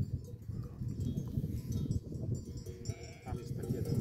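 A large flock of sheep bleats near Kalin Dam in Bulgaria, one sheep wearing a large bell, with repeated calls at moderate distance amid hoof shuffling and a low outdoor murmur, along with some faint voices.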